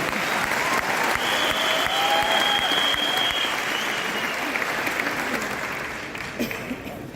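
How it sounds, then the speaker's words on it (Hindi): A large crowd at the Vestige award function in Tyagraj stadium applauds loudly and continuously for Deepak ji, the dense clapping carrying a faint whistle early on before slowly tapering near the end. "एक बारी जोरदार तालियां दीपक जी के लिए"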